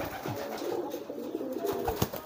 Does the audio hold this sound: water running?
no